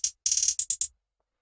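Crisp electronic hi-hat hits in a plugg beat pattern, a quick rolled burst followed by three spaced single ticks, then silence.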